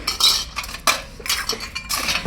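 Small silver puja bowls clink and clatter as they are handled up close, a few sharp metallic knocks and scrapes in irregular bursts with no talking.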